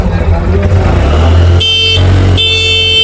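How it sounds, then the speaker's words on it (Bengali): A motorcycle gifted to a mosque's Friday preacher in Satkania idles with a low engine rumble, then sounds its horn in two clear, loud blasts, the second one longer. Voices can be heard around it. "হরন কই, একটু হরন দেন তো হুজুর"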